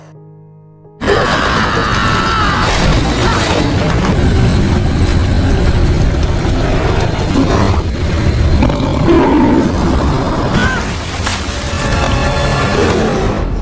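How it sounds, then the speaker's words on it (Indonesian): A tiger roars loudly and continuously in a prehistoric adventure film scene, a deep, rumbling growl that swells and fades in waves over several seconds, close and dominant with no talk. "harimau itu mendekati Dele dan mengaung di wajahnya"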